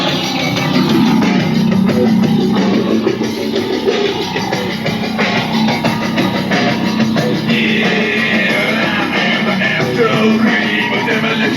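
Sundown subwoofers in a Chevy Silverado truck's stereo play music very loud, a dense, heavy, booming wall of sound that holds steady and unbroken for over ten seconds.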